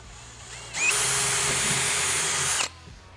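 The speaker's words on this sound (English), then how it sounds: "so that I'm drilling through my top here and down into the center of my 2x4." A single close burst of a power drill boring a pilot hole through a top board into a 2x4, whining steadily for about two seconds before stopping.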